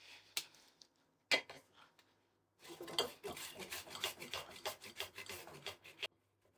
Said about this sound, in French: nous allons râper la courgette